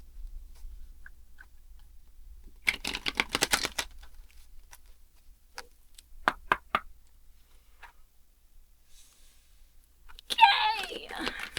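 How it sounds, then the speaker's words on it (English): Playing cards being shuffled by hand, heard as two or three short riffling bursts separated by quiet gaps, close and fairly faint, with a rougher rustle at the end. "I might just be making noise with the card. I'm shuffling."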